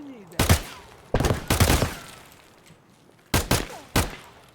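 Gunfire in the video game Escape From Tarkov, several loud booming shots in separate bursts, two then two more, each with a decaying echo, and no speech over them.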